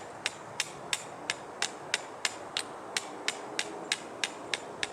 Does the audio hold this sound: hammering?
yes